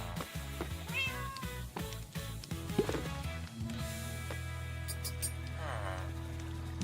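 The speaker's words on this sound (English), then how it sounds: "Get off of my keyboard, cat." A cat meows near a computer keyboard during a Minecraft session. Two drawn-out meows sit apart, with soft key clicks and steady game music underneath.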